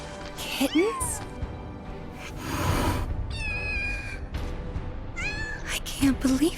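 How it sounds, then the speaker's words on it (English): Kittens meowing in the Final Fantasy VII Rebirth video game, with several high, wavering mews rising and falling across the scene over a busy background bed, near and fairly loud. "kittens?"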